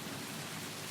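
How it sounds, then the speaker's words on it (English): Heavy rain pouring down during a storm, a dense, steady hiss of drops close by with no pauses and nothing else audible. "The wind howled, trees bent, rain poured."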